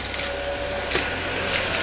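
Rowenta X-Force Flex 14.60 Aqua cordless vacuum cleaner running steadily while cleaning around a sofa, a continuous close whirring motor hum with brief airy surges of suction, no talk.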